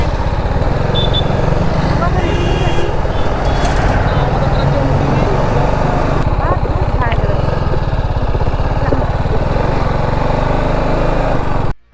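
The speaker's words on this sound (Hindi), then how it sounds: "आज ट्रैफिक बहुत मिल रहा है भाई" Road traffic at Chalsa Mor, a dense, continuous mix of engine drone and rumbling vehicles nearby, loud and unbroken throughout, with faint voices and the odd horn-like tone over it before it cuts off abruptly at the end.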